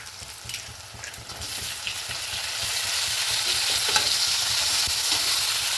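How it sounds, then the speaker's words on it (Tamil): Chopped tomatoes tipped into a pan of softened onions, frying with a steady bright sizzle that swells and holds loud and close, with a few faint stirring scrapes and no talk. "இப்போ வந்துட்டு கட் பண்ணி வச்சுருக்க தக்காளியை போட்டுக்கலாம்."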